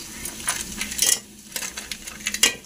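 Crabs tossed into a pan of fried tomato, onion and chili make a few sharp, scattered clinks and clatters against the metal, close and fairly quiet, with no talking.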